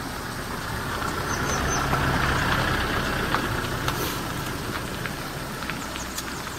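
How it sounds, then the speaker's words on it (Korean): Truck driving past on a rural road in Inje County, a broad steady engine rumble and tire roar that swells slightly in the middle and stays fairly distant, with no one talking. "지금 트럭이 지나갔습니다"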